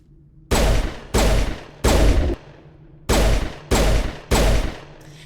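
Turret gunfire in Mass Effect Legendary, six loud, close bursts of rapid automatic fire, each lasting about half a second, separated by short pauses over a low ambient hum.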